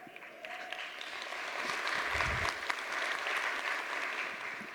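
Audience applause at a Swift developer conference talk in Tokyo, a steady burst of clapping from a crowd lasting several seconds.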